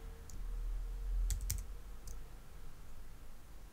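Several sharp key clicks from typing on a computer keyboard while filling in a template, a short cluster of taps near the middle and another tap a little later, fairly close over a low steady hum.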